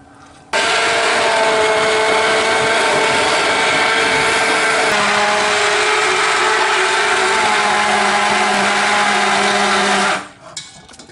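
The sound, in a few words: blender blending tomato sauce into a coulis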